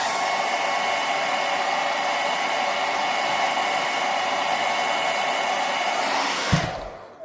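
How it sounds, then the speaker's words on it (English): A hair dryer blows hot air over a wig, a loud, steady whooshing roar that runs continuously before cutting off near the end with a thump. "Hold it, blow it with hot air."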